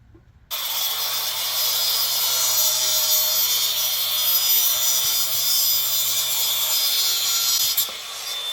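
A saw cuts through a piece of fuel line during an RB25 engine build, a steady, close rasping stroke that starts abruptly and runs without a break for about eight seconds before stopping.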